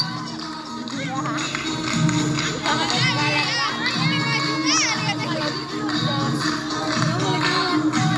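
A large crowd of spectators, children among them, shouts and cheers at a scout camp festival in Jantho, Aceh, a dense continuous roar with rising whoops, loud and close throughout, with talk mixed in.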